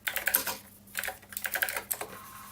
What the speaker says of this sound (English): the reason you would have a mechanical keyboard is so you can type easily, type fast